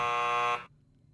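A loud, harsh electronic game show buzzer blares for about half a second and then cuts off abruptly, leaving a faint low background hum.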